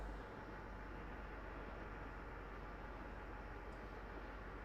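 A train in a simulator game rumbles steadily as a constant broadband drone, running alone without talk throughout.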